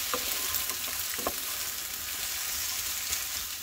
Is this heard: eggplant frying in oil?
yes